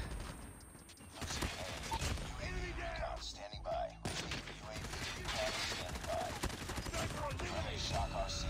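Rapid hip-fired gunfire rattles in COD Mobile, with bursts of shots and clanking mechanisms running through the scene, fairly loud, while someone talks over parts of it.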